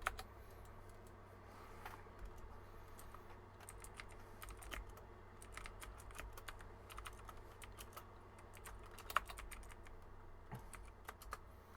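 Typing on a computer keyboard, a steady run of quiet, irregular key clicks with a few sharper taps, close to the mic over a low constant hum, with no talk.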